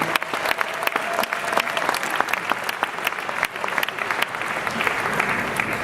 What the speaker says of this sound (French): Sous vos applaudissements, mesdames et messieurs, s'il vous plaît.